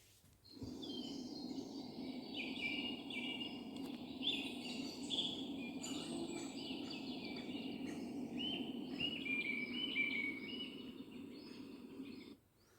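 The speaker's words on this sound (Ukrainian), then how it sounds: "Так, це пташки" Steady high chirping and twittering from several birds in a forest, continuous and fairly faint over a low, constant background hum.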